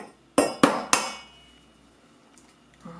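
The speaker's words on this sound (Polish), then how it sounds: "Do tego mleka damy jedno jajko." One egg is cracked into milk for a pudding cake batter: three sharp, close knocks of shell against the bowl in quick succession, then near quiet with a faint soft sound at the end.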